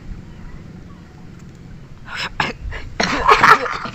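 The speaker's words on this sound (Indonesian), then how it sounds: "Batuk." A person coughs in a short cluster of harsh bursts that ends in one louder, rougher cough, with quiet ambience before it.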